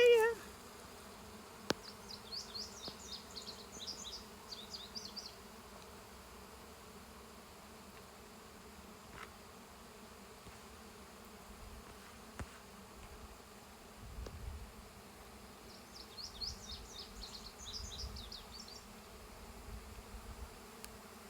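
A honeybee swarm hums faintly at an observation hive outdoors, a low steady drone with a few brief higher buzzing passes from bees flying near, quiet and with no talking.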